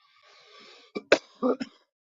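A person coughs on their first cone of the day, a quiet breathy stretch followed by several sharp, close cough bursts in quick succession, with no talking.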